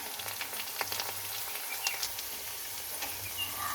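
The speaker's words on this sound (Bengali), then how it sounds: "এবার আমি আলুগুলোকে ভেজে নেব।" Potatoes fry in a pan with a steady, moderate sizzle and faint crackles and pops, close by and without talk.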